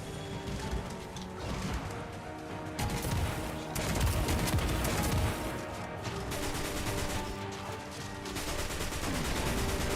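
Gunfire in Destiny on mobile while shooting an enemy's core: dense, loud bursts of shots and impacts layered over game music, with heavier clusters of blasts in the middle.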